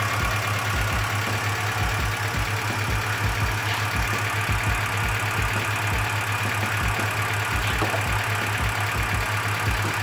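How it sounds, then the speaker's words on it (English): Budget race car engine idling with a steady, rhythmic low rattle and knock, running continuously and close without any talking. "Engine's still making some nice rattling noises"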